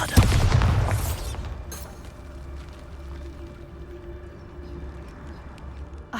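A Bombarda blasting spell in the Hogwarts Legacy video game lets off a loud, close explosion with a deep boom. It fades into a low rumbling tail with scattered debris clatter.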